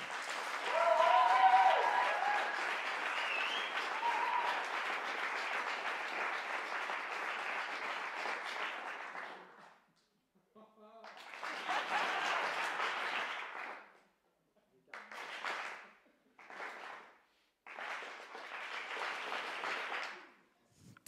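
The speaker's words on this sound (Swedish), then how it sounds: "Så jag tycker att ni kan ge dem alla en kollektiv applåd först." An audience gives collective applause at a music event, a long loud burst of clapping that dies out, then several shorter bursts of applause separated by brief silences.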